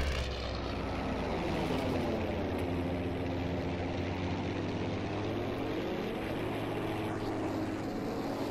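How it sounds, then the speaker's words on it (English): A fighter plane in the Battlefield V video game roars steadily throughout, a loud continuous engine and propeller drone with no breaks and no talk. "Really gotta kill that fighter plane."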